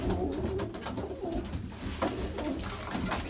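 Mardin pigeons coo in low, repeated throaty phrases close by, layered with soft rustling and handling noise, no one speaking.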